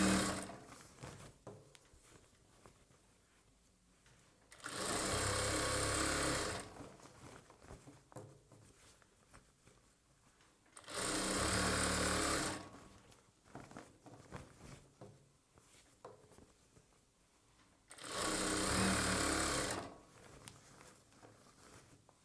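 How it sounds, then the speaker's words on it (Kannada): A sewing machine stitching an edge piece onto a chudidar bottom, three separate loud bursts of rapid whirring, each lasting a couple of seconds, with quiet fabric handling and faint rustles between them. "ಈ ಅಂಚು ಪೀಸ್ ಎಡ್ಜ್ಗೆ ಸ್ಟಿಚ್ ಮಾಡಬೇಕು."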